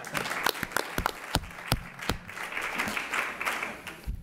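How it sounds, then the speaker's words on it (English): A round of applause rises at a school board meeting, with sharp individual claps standing out near the start before blending into moderate, steady clapping from a small audience that cuts off at the end. "We'll give you another round of applause."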